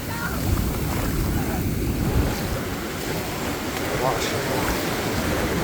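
Pacific Ocean waves washing up on the shore make a loud, continuous roar mixed with gusty wind buffeting the microphone, while a person speaks briefly.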